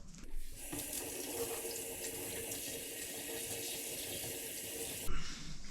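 Tap water running over a sika deer heart at a kitchen sink, a steady close splashing stream that carries on evenly before stopping abruptly near the end, with no talking.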